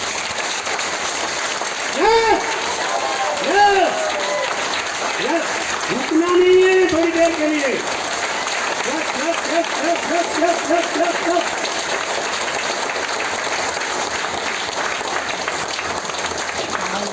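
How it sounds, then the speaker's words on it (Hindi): Steady crowd applause at a business seminar fills the background throughout, with scattered cheers and a voice speaking briefly over the clapping. "तालियां उतनी जोरदार बजाए जितना आपको समझ रहा है"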